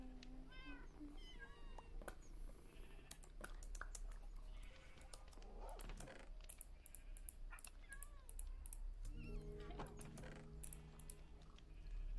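A pet cat in the video game Minecraft meows several times, faint and recurring, over quiet in-game ambience and clicking sounds.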